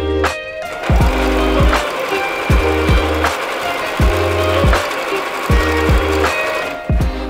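A sewing machine stitches a folded strap of Gatot Kaca canvas for a yoga mat bag. It runs in short, loud, close bursts of rapid whirring, separated by brief pauses, with a click at each stop.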